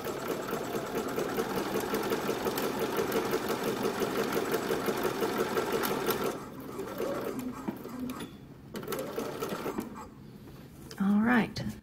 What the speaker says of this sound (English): I have my machine set for needle down, so it always stops with the needle in